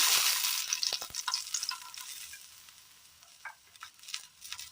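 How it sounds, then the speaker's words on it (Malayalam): Finely chopped garlic dropped into hot oil in a pan on the stove, a bright crackling sizzle that starts loud and fades to softer pops and stirring clicks. "ഒരു പാൻ അടുപ്പത്ത് വെച്ച് കൊടുത്തതിന് ശേഷം അതിലേക്ക് ഒരല്പം എണ്ണ ഒഴിച്ചു കൊടുക്കാം. 2 വെളുത്തുള്ളി ചെറുതായിട്ട് അരിഞ്ഞത്"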